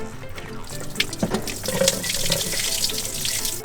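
Coolant pours steadily from a BMW E30 radiator hose, a continuous splashing gush of liquid close by with no voices.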